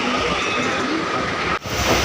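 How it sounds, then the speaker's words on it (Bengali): A train on the Diamond Harbour line rolls along the rails with a steady rumble and rhythmic clatter, briefly interrupted by a sharp whoosh near the end. "ট্রেনে বসে গেছে ট্রেন চলছে"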